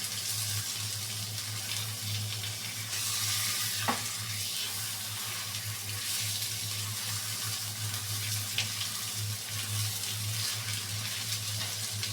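Tilapia fish frying with butter in a pan, a steady soft sizzle and crackle over a low background hum, with an occasional faint clink of a utensil, close and even, no talk.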